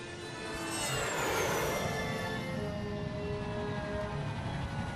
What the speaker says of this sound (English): Guess we're taking the jet.